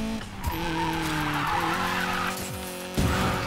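In Need for Speed Payback, a Mazda MX-5 slides through a drift, the engine humming under a continuous tire skid with a sharp burst near the end. No one speaks.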